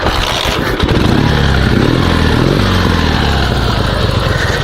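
A Dnepr two-wheel-drive sidecar motorcycle with a troubled engine and smoking clutch starts after a short cranking scrape, then settles into a loud, close, rough idle that drones steadily to the end.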